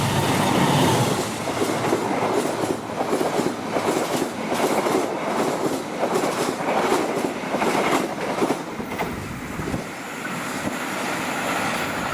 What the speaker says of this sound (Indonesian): Ternyata kereta api Saunggalih 153A yang melintas tepat setelah KA50F lewat di sini